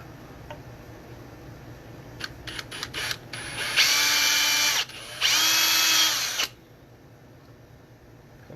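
A power drill whirs in two sustained high-pitched bursts, drilling a pilot hole for the jack in a guitar body, preceded by a few short clicks and taps, close by.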